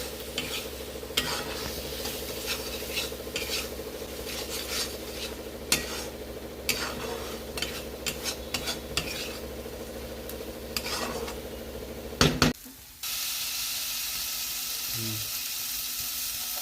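Chopped tomatoes cooking down in an oily masala for a soybean curry, with a steady close sizzle and repeated scraping strokes of a spatula in the pan, ending in a brief clatter and a hiss.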